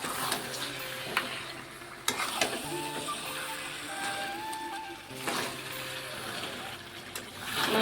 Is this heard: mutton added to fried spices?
yes